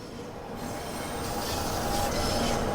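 A London Underground 1972 Tube Stock train with seven carriages in a 4+3 configuration runs in the game Train Sim World. A steady low rumble of wheels and motors builds gradually in loudness, with no talking.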